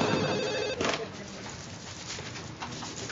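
Telephone ringing in a Turkish TV comedy scene, with repeated electronic ring tones in the opening part of the clip and background noise and voices continuing afterward.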